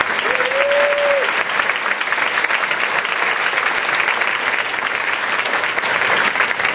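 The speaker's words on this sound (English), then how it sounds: "let's give him a round of applause" An audience at a nonprofit's event applauds in a sustained, loud burst of clapping that holds steady throughout, with a brief tonal whistle early on and no clear talk on top.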